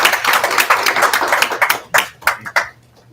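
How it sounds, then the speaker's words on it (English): Applause for school board members at a Providence school board meeting: a short burst of scattered clapping from a small group that thins into a few separate claps before fading out. "So can we give our school board members a round of applause?"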